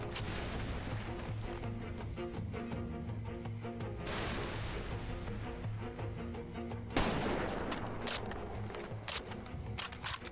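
Gunfire in Far Cry 2: bursts of shots and rattling automatic fire with sharp louder cracks, one especially strong blast near the end, over a continuous low battlefield rumble, no talk.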